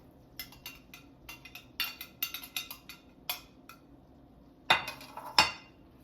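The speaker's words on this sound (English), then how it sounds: "now we're gonna put the shrimp in here" Shrimp being added to a pan for shrimp linguine in white lemon sauce, heard as a run of light clinks and scrapes of utensils against cookware, ending in two louder clatters.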